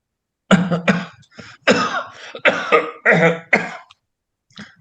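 Several harsh coughs and throat-clearing bursts come in quick clusters, close and fairly loud, with short pauses between them and no talking.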